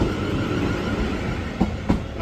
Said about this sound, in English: Train's leaving to London Waterloo.